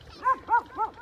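Dogs fighting outdoors let out three quick yelping barks, close by, in a one-second burst.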